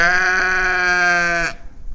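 A young castrated goat gives one sustained, strongly harmonic bleat lasting about a second and a half, loud and close, cutting off abruptly into quiet background.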